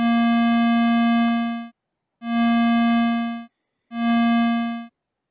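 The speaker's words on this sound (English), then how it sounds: "we should have a totally different note quality" A synthesizer on a Playdate handheld plays the same steady, buzzy tone three times, each note about 1.5 seconds long, separated by short gaps of silence and fading briefly at the end, with no talk.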